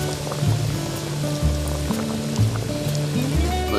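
Walleye fish pieces sizzle steadily in hot frying oil, a dense continuous crackle with low hums and clunks underneath, close and fairly loud throughout.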